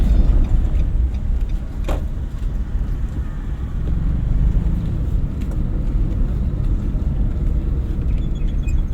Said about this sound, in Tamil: மறுபடியும் ஸ்பீடு பிரேக் பிடிக்கிறோம், கிளச்சை பிடிக்கிறோம். 2வது கீர் வந்துடுறோம்.